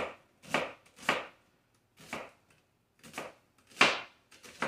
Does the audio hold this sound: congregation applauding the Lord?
no